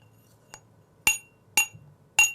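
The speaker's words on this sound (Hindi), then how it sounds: "लेकिन इस कांच के गिलास में देखिए" Glass tumbler struck three times in a steady rhythm, each a bright ringing clink close by, preceded by a fainter tap, in a quiet room.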